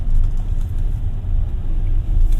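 GAC GS3 Emzoom R-Style car driven in comfort mode under throttle, a continuous low engine and road rumble heard from inside the cabin, steady and fairly loud with no talking.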